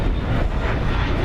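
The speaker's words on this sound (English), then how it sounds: "It's an E-Jet." Embraer E-Jet regional airliner flown by American Eagle, passing at Dallas/Fort Worth airport; a loud, steady, broadband jet roar with a deep rumble, continuous throughout and heard alone without talk.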